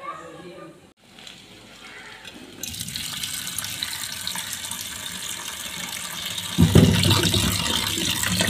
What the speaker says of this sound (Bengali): এখন ভালো করে ধুয়ে নেব।